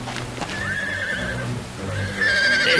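Horses neigh loudly and repeatedly, whinnying one after another, with clip-clop hoofbeats and restless movement beneath, close and without voices.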